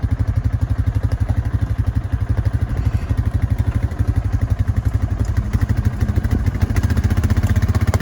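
A four-wheeler ATV engine runs steadily nearby with a fast, even low-pitched chug at a small gold-mining site, loud and constant with no voices.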